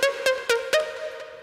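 A bright synth lead plays a quick run of short staccato notes with rich harmonics, each struck sharply and decaying fast, close and clear with no talking.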